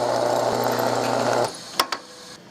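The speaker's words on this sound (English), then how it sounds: "drill through to this other side so that those two holes are in perfect alignment" A power drill bores through a burl walnut pistol grip for a Colt Detective Special, running steadily for about a second and a half, then stopping, followed by two sharp knocks.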